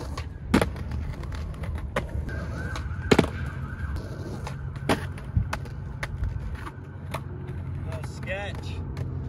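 A skateboard rolls along a street by a bike lane and pops tricks off a little curb to a gap, with sharp clacks of wheels and tail landing over the rolling rumble, and passing traffic noise in the background.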